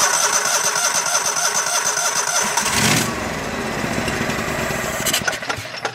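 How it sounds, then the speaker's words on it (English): An old Go-For digger, a forgotten estate-sale machine with a throttle that won't hold position, cranks and catches, then settles into a loud, steady running engine close by. "Let's go see if it'll fire back up."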